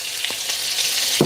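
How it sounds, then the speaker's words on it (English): Hot oil sizzles steadily in a preheated pan while cooking cumin rice, a continuous bright hiss with a small clatter near the end and no voices. "aside from all the sizzling"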